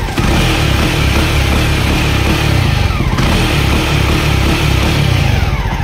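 A Jawa 42 motorcycle runs with its engine revving in steady, loud bursts close by, the throbbing exhaust note continuous throughout, with no voices over it.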